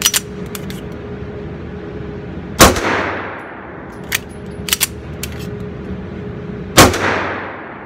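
A Springfield Armory Range Officer 9mm 1911 pistol fires two loud, sharp shots outdoors at a range, several seconds apart. Each shot rings out and decays, and light metallic clinks of falling casings follow.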